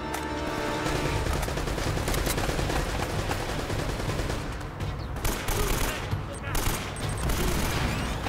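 Heavy gunfire in Uncharted: Drake's Fortune, a dense run of rapid shots and bursts that continues throughout, with a voice shouting over the shooting.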